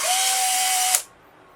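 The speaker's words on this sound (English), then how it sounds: "So now we should be able to fire the shutter" A Polaroid SX-70 camera fires its shutter and runs its motor and gears, a steady whirring buzz lasting about a second that ends in a sharp click, close and alone.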